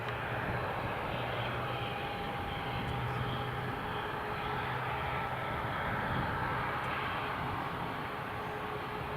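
A Boeing 737 MAX 8 airliner taxies at Newcastle International Airport, its engines giving a steady, broad roar with a faint high whine that holds evenly throughout.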